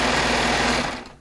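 A Baby Lock Triumph serger stitching Shannon Cuddle fabric with a 4-thread setup runs at speed in a steady, close mechanical whir for about a second before winding down.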